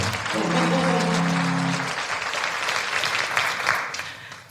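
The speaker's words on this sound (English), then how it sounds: "A round of applause for all of them, folks." Audience applause at a cyber marketing conference, a steady, full round of clapping from a seated crowd that holds for several seconds before tapering off.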